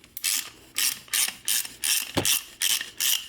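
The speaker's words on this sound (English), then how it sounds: "Going to start the reamer in the bore." A reamer turns in the worn bore of a Muncie M22 gearbox case, giving close, repeated ratcheting clicks in short rhythmic bursts with slight resistance and no voices.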